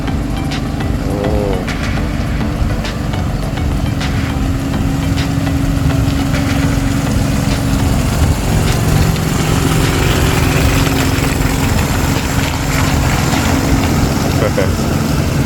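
Tourist motorboat on the river at Vang Vieng, Laos, in the morning, its engine droning loud and steady throughout, with faint voices now and then under the motor.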